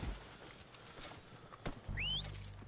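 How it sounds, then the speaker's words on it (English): Horses arrive in the Red Dead Redemption 2 video game, with hooves clip-clopping and a neigh or whinny. A faint whistle is followed by a louder rush of hoofbeats near the end. "They're coming down with the horses."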